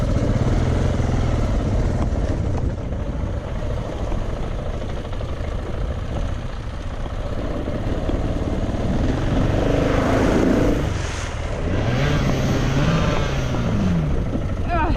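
A loud engine drones and revs with rising and falling pitch sweeps, heard up close alongside rushing wind and a voice speaking partway through.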